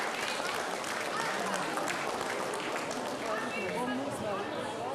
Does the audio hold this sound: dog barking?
no